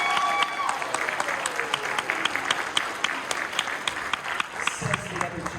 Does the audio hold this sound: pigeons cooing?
no